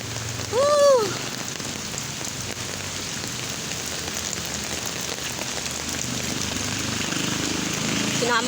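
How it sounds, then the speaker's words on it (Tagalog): Heavy rain drums on surfaces during a typhoon, a loud continuous broadband hiss that builds slightly toward the end, with a short voice heard briefly near the start. "Narinig nyo ang ulan?"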